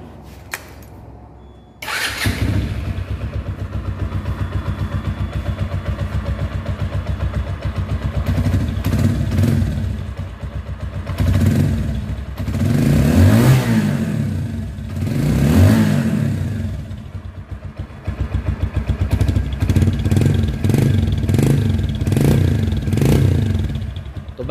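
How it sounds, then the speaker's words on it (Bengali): A Bajaj Discover 135 motorcycle engine runs after timing chain and engine repair work. It starts, settles into a steady idle, swells in two long revs, then gives a rapid series of throttle blips near the end. "তো এখন আপনারা বাইকের ইঞ্জিনের সাউন্ড এবং"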